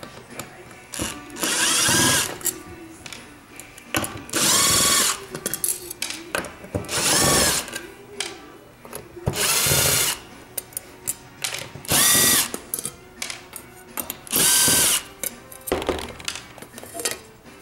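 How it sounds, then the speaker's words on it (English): A power tool whirs in repeated bursts of a few seconds each while an EMotorWerks JuiceBox DIY electric vehicle charger kit is assembled, separated by clicks, rattles and short pauses, close and loud. "I'm gonna use the power tools here."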